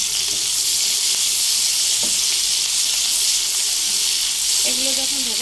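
Chillies, onion and garlic frying in a pan give a steady, loud sizzle throughout, with brief stirring clinks and a short voice near the end.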